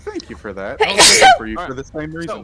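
A single sharp sneeze bursts out in the middle of lively conversation among tabletop game players. Voices keep talking right before and after it.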